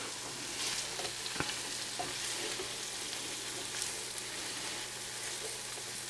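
Scallops sizzling steadily in a hot pan for creamed scallops, a continuous close frying hiss with faint crackles and a brief clatter partway through, no voices.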